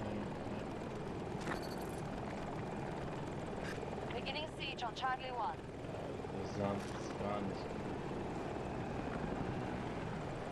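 Video game helicopter, a KA-520 Super Hokum attack chopper, drones steadily through the whole stretch beneath gunfire and battle noise, with players talking over it.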